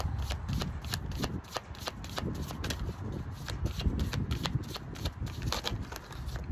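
Tarot cards being shuffled, a steady run of quick papery riffles and soft slaps that keeps going without a break, close by and fairly quiet, with no talking over it.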